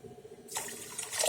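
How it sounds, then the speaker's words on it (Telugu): Water poured into a bowl of sugar to moisten it for Mysore pak syrup, a sudden steady splashing pour starting midway and running to the end, close and fairly clear. "ఆ షుగర్లో ఇప్పుడు అది తడిచేంత మాత్రం నీళ్లు పోసి పెట్టుకోవాలి"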